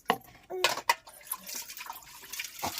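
Tap water splashes and trickles in a sink while dishes are washed at home, a steady close wash with brief clattering knocks near the start and a faint voice.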